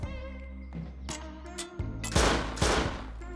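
Gunshots in a shooting video game, several sharp loud bursts in quick succession toward the end over game music and sound effects.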